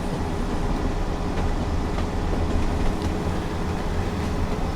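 A British Rail Pacer diesel railbus fitted with a Voith hydrokinetic transmission gives a steady, loud rumble with rolling wheel noise on the Blackpool South branch, continuous throughout with no voices.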